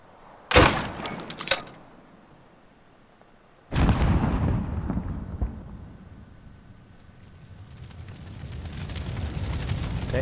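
A tactical spawn tube is launched in Modern Warfare: a sharp bang near the start, then a second loud launch thump followed by a long whooshing, fading rumble as it flies and lands.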